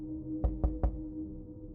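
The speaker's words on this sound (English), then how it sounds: "I knocked on the door." Three sharp knocks on a door, evenly spaced and fairly close, over a low steady hum in a quiet room.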